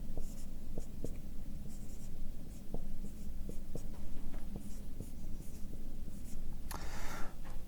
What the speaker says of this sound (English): when I write a vector that looks like this